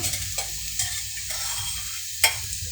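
Tempering spices sizzle in hot oil for a thuvaiyal, a close, steady crackle with a few sharp pops and light spoon knocks, one louder pop near the end.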